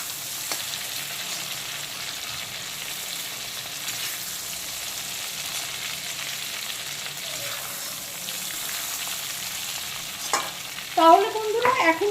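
Lightly fried prawns are lifted out of hot oil in a pan, cooked for a pointed gourd curry. A soft continuous sizzle runs throughout, then a brief burst of louder spattering and utensil clatter comes near the end.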